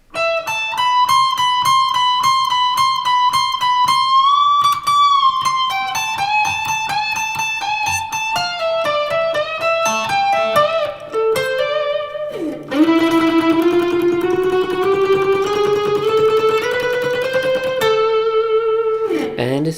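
Electric guitar playing through effects with distortion, a sustained melodic line of bending, gliding notes that runs continuously and fairly loud, shifting into lower held tones partway through.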